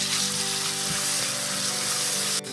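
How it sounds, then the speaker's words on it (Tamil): Onions frying for a fish curry sizzle steadily and loudly, with a small ripe tomato added, giving a close, continuous hiss from start to finish and no talk. "இப்போது 1 ஸ்மால் சைஸ் தக்காளி, நல்ல பழுத்த தக்காளி சேர்க்குறேன்."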